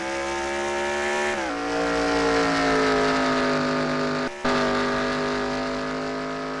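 A pack of stock race cars roars off at the green flag at Talladega in a sim racing game, a loud, sustained layered engine drone whose pitch shifts through gear changes, with a brief cut partway through.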